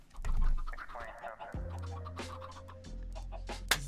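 Minecraft chickens cluck on an egg farm in the video game, a steady layered stream of fowl calls with a brief pop near the end, no talking.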